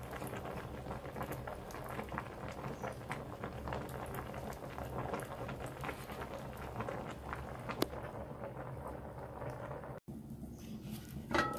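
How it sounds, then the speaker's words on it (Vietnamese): A large pot of cassava roots boiling hard, a steady dense bubbling and rolling patter that holds close and even throughout, with a brief pause near the end. "Đấy, đang sủi đấy các bạn ơi"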